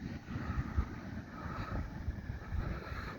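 Steady wind blowing on the Oregon coast near Reedsport, a continuous low rumble with gusty buffeting against the microphone, no voices.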